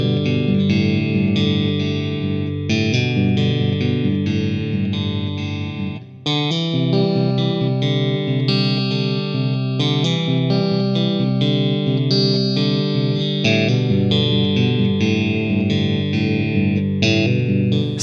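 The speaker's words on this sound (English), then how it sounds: "I was playing this through my Fractal FM9 on the stock Marshall JTM 45 style preset" An electric guitar plays through a Fractal FM9 on a Marshall JTM 45 style amp preset with crunchy distortion. The chords ring loud and sustained for the whole stretch, with one brief drop midway and no talking.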